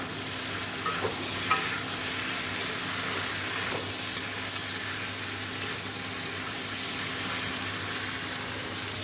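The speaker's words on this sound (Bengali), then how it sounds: "এদিকে সয়াবিনটা কষানো হচ্ছে" Soybean chunks stir-fried in a pan make a steady, continuous sizzle with light stirring scrapes, close and even throughout, with no talking.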